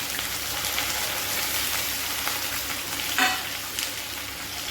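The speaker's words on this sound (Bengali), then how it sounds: "পেঁয়াজটা আমার ভাজা ভাজা হয়ে গেছে, এখন আমি এর মধ্যে এই যে ছোলা কচুর লতি আমি এর মধ্যে এখন দিয়ে দিব" Taro stolons (kochur loti) drop into a pan of frying onion and get stirred, with a steady close sizzle and a brief scrape of the spatula, no talk.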